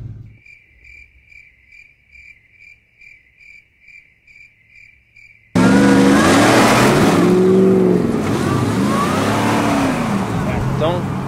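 Crickets chirp in a steady pulsing rhythm in the quiet, then a V8 Ford Raptor engine suddenly roars loud and close, revving hard while pulling a stuck Chevy free.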